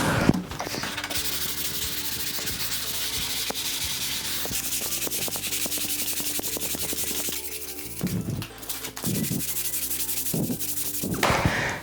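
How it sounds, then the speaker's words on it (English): Wood is sanded by hand with a 180 grit sanding block indoors, in a bathroom, making rough rasping strokes that rub back and forth in a steady rhythm, close and clear, with no talking over it. "we're going to sand it down with the 180 grit sanding block"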